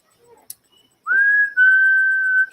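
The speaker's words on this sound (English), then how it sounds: "I've been whistling this song for 35 years" A person whistles a tune indoors, holding two clear, sustained notes in a row after a moment of near silence. The whistling is loud and close, with no talking.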